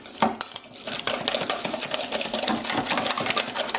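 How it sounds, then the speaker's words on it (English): Steak dressing being mixed in a bowl, with quick, rhythmic clinking and scraping of a utensil against the bowl, close and continuous. "I'm just going to mix this first actually. Give it a good mix"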